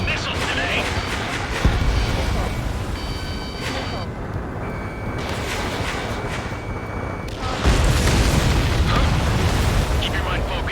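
Explosions and booming blasts in the combat flight game Ace Combat 7, as an enemy transport is destroyed during a mission, with heavy rumbling game audio, brief tones and radio-style voices talking over it.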